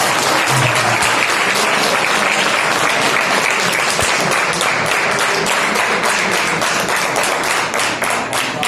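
Loud, continuous applause from an audience at a Hindi-Urdu poetry recital, dense clapping sustained for several seconds without a break.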